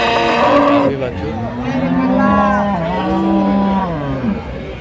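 Dairy cows and calves moo at the Ambari cattle market in Dinajpur, with one long, loud, drawn-out call rising and falling close by over the murmur of chattering people.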